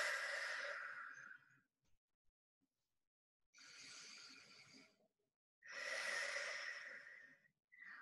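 Two slow, deep breaths taken during a yoga-style flexibility cool-down, each a long, soft airy inhale-exhale swell with quiet pauses between, close and alone with no talking.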